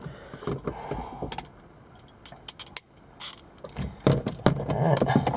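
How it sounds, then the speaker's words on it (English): A ratchet wrench clicks in short, uneven bursts while working on blowers in a cramped, tight engine bay, with metallic clacks and scrapes close by and a rustling bump of effort between strokes. "Of course, the damn ratchet don't want to work."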